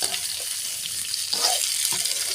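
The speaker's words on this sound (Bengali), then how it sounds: "পটলগুলো সুন্দর করে ভেজে নিব।" Pointed gourd (potol) frying in a pan, a dense continuous sizzle with occasional stirring scrapes and shifts, close and steady, with no voices.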